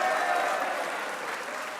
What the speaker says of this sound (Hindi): एक बार इस परफॉर्मेंस पे शाहीन के लिए तालियां होनी चाहिए।